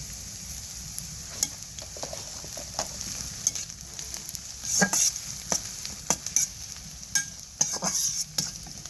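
Steady hot-oil sizzle with frequent sharp crackles and pops, close up, as whole cumin seeds fry in oil with browned onions on a clay stove; no voices.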